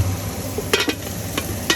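Kachori and beans frying in a pan give a steady low sizzle, with a few short scraping stirs and clinks breaking in near the middle and end.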